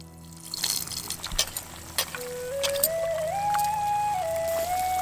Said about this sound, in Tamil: இப்ப நம்ம அரைச்சு வச்சிருந்த தேங்காய் கூட தண்ணி ஊத்தி கரைச்சு